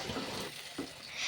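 Mango pieces frying in oil with dry red chillies, whole mustard seeds and turmeric, a soft continuous sizzle with faint stirring, quiet and close, no talking.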